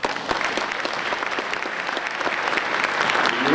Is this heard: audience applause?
yes